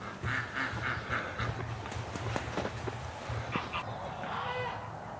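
Ducks quacking in a yard at wake-up time, a run of repeated nasal quacks in quick bursts at moderate distance, with thumps and rustling in between.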